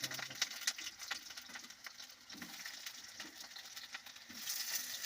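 Potatoes slide into hot oil for a chili chicken with potatoes dish, setting off a soft, constant sizzle with scattered ticking pops and a slight swell near the end, heard alone without voices.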